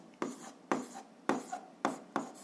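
Chalk or pen strokes writing a physics formula by hand, five distinct scratchy bursts in an even rhythm, close and fairly loud with quiet gaps between.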